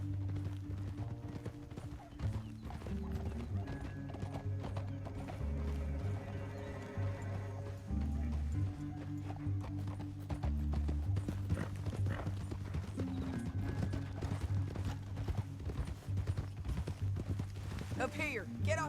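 Horses whinny and hooves clip-clop steadily beneath a western video game's orchestral score, while characters talk over the rhythmic galloping throughout.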